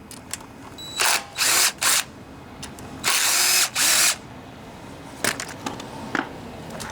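A ratchet with a 10mm socket removes bolts from a Honda GCV 160 engine on a Ryobi pressure washer, giving several short bursts of clicking and whirring, with two longer bursts in the middle, close and alone.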